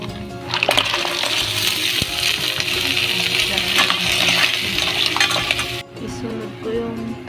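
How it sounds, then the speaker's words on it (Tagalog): Mussels drop into a hot pot of sautéed garlic, onion and ginger, clattering shells giving way to a loud, steady sizzle and frying hiss that cuts off abruptly near the end, with some talking underneath. "Yan, ilunod ko na yung tahong."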